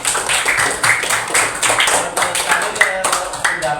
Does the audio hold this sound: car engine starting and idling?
no